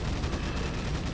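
Rapid gunfire from Resident Evil 4 rattles in a dense, loud burst of repeated shots with no speech over it.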